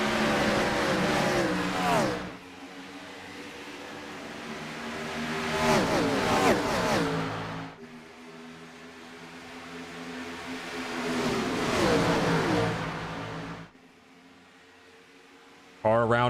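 Race cars in a sim racing game at Chicagoland accelerating away on a restart, engines rising in pitch through two long revving sweeps that swell and fade, with a commentator talking over them.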